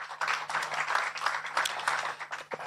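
Applause and clapping from an audience at an International Women's Day event, a steady mid-level wash of many hands lasting throughout with no one speaking over it.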